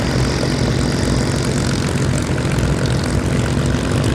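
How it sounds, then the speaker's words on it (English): Engines of Spitfire and Hurricane warbirds, including early Mark 1A Spitfires, running together at an airfield air show, a loud continuous propeller-engine roar with deep throbbing rumble filling the whole stretch, no voices. "and 4 Hurricanes now all fired up"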